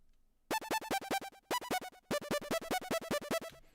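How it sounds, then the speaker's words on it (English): Bright, sparkly synth plays rapid staccato notes in quick repeating runs, loud and close, with short gaps between phrases and a clean, chiming tone. "One of them is a synth that sounds like this."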